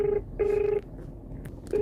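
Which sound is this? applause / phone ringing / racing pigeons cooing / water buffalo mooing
phone ringing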